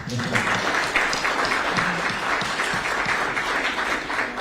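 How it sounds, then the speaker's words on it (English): Applause from the audience at a Democratic Progressive Party reception for foreign diplomats, a steady, dense clapping that fills the room throughout at moderate loudness. "Please join me in, once again, giving them a round of applause"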